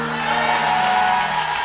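A church congregation cheers and acclaims, a dense, loud wash of shouting and whooping voices that stays steady for the brief span.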